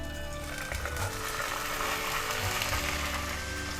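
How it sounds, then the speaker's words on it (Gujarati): Rice tipped into a pan of hot ghee with cumin seeds, a bay leaf, cinnamon and cloves for jeera rice gives a steady, dense rattling patter that lasts the whole few seconds, with no talking. "હવે એમાં રાઈસ એડ કરીશું"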